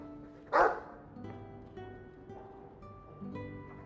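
A guard dog in the video game Dragon Age II gives one sharp, loud bark, followed by quieter whimpering yips over faint background sound.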